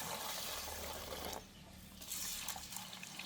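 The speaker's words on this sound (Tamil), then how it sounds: "இதை இப்போ நான் தண்ணி ஊற்றி ஒரு மணித்தியாலம் ஊற விட போகிறேன்." Water poured onto split urad dal to soak, a steady broadband rush of filling liquid that drops briefly and then resumes, close and fairly quiet with no talk.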